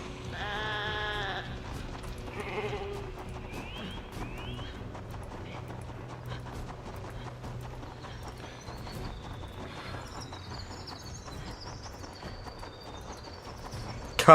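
Short burst of video game sheep bleating near the start, followed by steady game noise with scattered clicks and faint effects, no voices.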